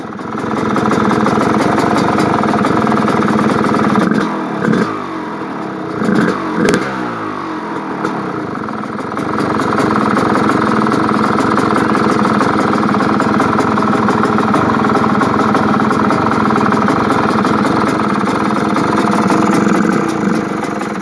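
A 1989 Suzuki RM250 two-stroke dirt bike engine sputters and catches, then settles into a steady, loud, rattly idle running close up for a long stretch.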